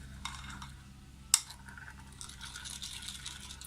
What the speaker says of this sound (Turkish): Şöyle şekeri erisin diye güzelce karıştırıyorum.